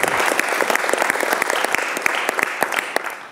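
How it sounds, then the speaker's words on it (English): Applause from an audience filling a hall at a film conference, dense steady clapping with scattered louder individual claps, alone without talk. "les applaudissements de la salle"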